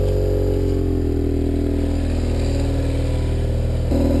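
A BMW F800GS motorcycle engine runs steadily on an off-road trail, a loud, close, continuous drone held at raised revs that climbs slightly near the end, with no voices.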